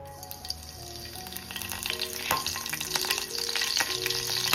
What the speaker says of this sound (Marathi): चला आता आपण तेलात कढीपत्ता टाकू.